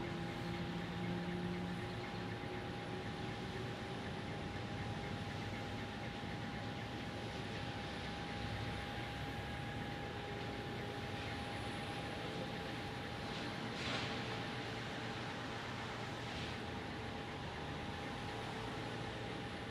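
An American Airlines A321neo on pushback at Phoenix Sky Harbor: a steady, distant jet engine whine and rumble holds throughout amid airport background noise, with no voices.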